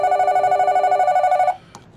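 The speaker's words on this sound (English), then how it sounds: "the phone won't stop ringing" A telephone rings in a steady, loud electronic trill for about a second and a half, then stops abruptly, leaving a brief faint click near the end.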